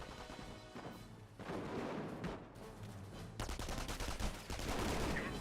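Panzer Grenadiers exchanging fire with an infantry section in Company of Heroes, dense overlapping rifle and machine-gun bursts with scattered crashes, a sustained rattling battle that intensifies in the final seconds.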